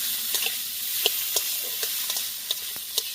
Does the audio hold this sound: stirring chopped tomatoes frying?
yes